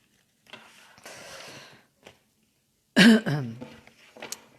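A few soft breathy sounds, then a sudden loud cough bursts out close by, followed by quieter throat noises.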